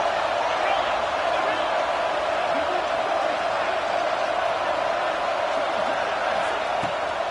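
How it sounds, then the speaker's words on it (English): The Alabama Crimson Tide home crowd roars on third down at Saban Field during an Iron Bowl college football game. It is a loud, sustained stadium roar that holds steady throughout. "The Tide crowd roaring noise down onto Saban Field on third down"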